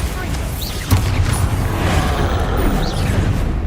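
A Bombarda spell explodes in Hogwarts Legacy, a loud booming blast over dense, continuous game combat noise with whooshing effects and a deep rumble.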